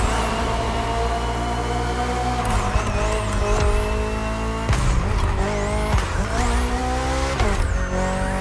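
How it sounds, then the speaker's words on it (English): A 2023 BMW M Hybrid V8 endurance race car roars through continuous high-revving engine notes with rising and falling gear shifts, loud and close, no talk. "The BMW M Hybrid V8. What a beast."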